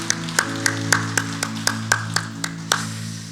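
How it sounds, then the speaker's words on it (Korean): A church congregation claps in unison, about a dozen sharp, evenly spaced beats over a sustained organ-like tone in the background. "우리 주님께 영광의 박수 올리겠습니다."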